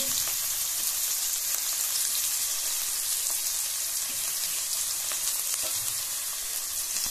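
Chopped onions fry in a pan for a home-cooked potato, pea and carrot sabzi, giving a steady, dense sizzle throughout with a few faint clicks and no talking.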